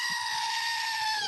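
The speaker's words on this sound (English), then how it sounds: "It's the closest I have. I have a sheep sound." A recorded sheep bleat played as a sound effect, one sustained nasal wavering cry that fills the whole moment, loud and close.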